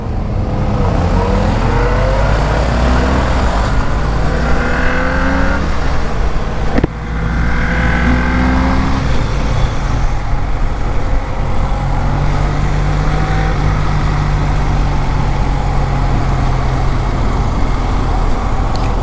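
A convoy of around twenty motorcycles rides together, a loud, continuous roar of engines and road rush, with rising and falling revs as bikes pass close by.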